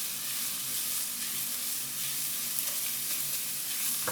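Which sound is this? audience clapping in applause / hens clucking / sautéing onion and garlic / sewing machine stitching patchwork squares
sautéing onion and garlic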